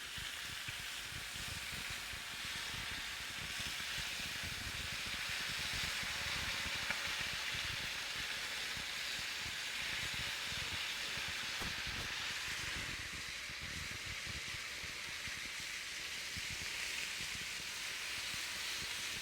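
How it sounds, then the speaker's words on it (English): Lone Star Light beer sizzles as it is poured over oysters on a hot grill, a steady close steaming hiss that runs unbroken and fairly loud throughout. "I'm gonna take this beer, and I'm gonna pour just a little bit on each oyster."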